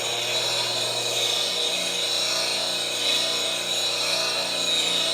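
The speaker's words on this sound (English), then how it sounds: "I'm going to sharpen that tip" A steel spindle gouge tip being sharpened on a grinder, a continuous harsh high-pitched grinding hiss that stays loud and steady throughout, with slight swells as the tool rolls.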